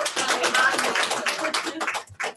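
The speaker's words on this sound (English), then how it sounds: "have a round of applause?" A small group applauds at the end of an open house class: close, uneven clapping that briefly drops out and then resumes.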